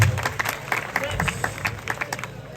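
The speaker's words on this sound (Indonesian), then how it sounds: "tepuk tangan untuk kebersamaan kita pada malam hari ini" An audience applauds at an evening performance event in Indonesia: scattered crowd clapping at moderate level, with a hum and background voices underneath.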